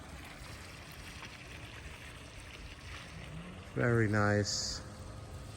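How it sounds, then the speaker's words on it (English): Water spills steadily from a spa spillway into a backyard pool at a golf course home, a continuous close splashing wash that runs the whole time, with someone briefly speaking over it near the end. "The spillway from the spa into the pool."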